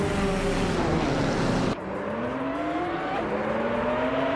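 A 2003 Porsche 996 Biturbo races around the Monaco street circuit in a video game, its engine droning loud and steady. The pitch climbs through the gears with a brief drop at a shift, and no voices are heard.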